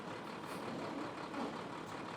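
A truck reverses very slowly toward a brine tank, its engine giving a steady, moderately quiet rumble with broadband road and exhaust noise throughout, no speech.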